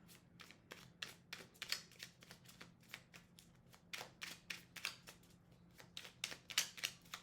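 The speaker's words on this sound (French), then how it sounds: "je vais tirer encore une petite carte" Tarot cards shuffled and drawn for a reading, a quick series of crisp papery flicks and taps in an uneven rhythm, close and soft over a faint low hum.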